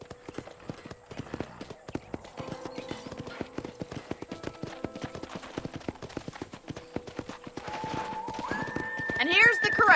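Horses trotting in Red Dead Redemption, a steady run of hoof clip-clops that grows louder toward the end, with a horse whinny near the close.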